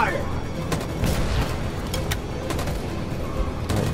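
Gunfire rattles through a video game battle as a squad lays down covering fire: dense volleys of shots and booms keep up over a steady roar, with a person talking in between.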